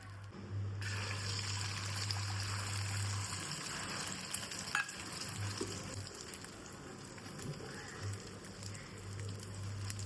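An omelette of two eggs with chilli, turmeric, chutney and salt fries in oil, giving a steady, soft sizzle with a low hum beneath and occasional small clicks.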